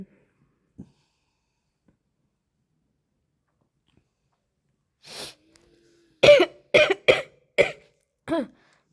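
After a quiet stretch, a person with a cold coughs several times in quick succession in Udaipur, close and sharp, with short pauses between the bursts.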